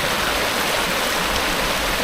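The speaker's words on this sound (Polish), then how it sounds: "Kolejny strumyczek." A small natural mountain stream in Wales rushes steadily and close, a dense, even wash of flowing water with no voices over it.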